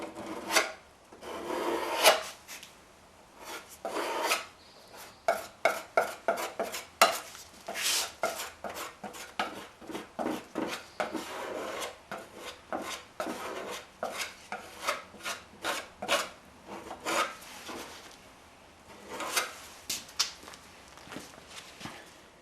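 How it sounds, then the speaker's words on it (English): Filler putty is sanded by hand on the body of a Honda Elite 250 scooter, giving close, steady rasping strokes in an uneven rhythm, some louder and sharper than others. "Well, I've done a preliminary sanding, and it's fairly good."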